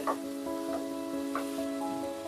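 Chana dal sautéing in a pan for a hotel-style dal bhuna, a faint steady sizzle with a few soft stirring scrapes, no voices.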